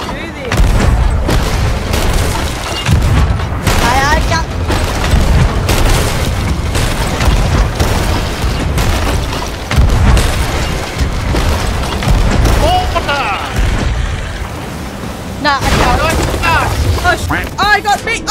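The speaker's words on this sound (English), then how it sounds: "I'm on a cannon. Ready. Get ready to fire." Repeated heavy booms from ship cannons in a pirate video game fire in irregular bursts, loud and close, with shouting voices mixed in between blasts.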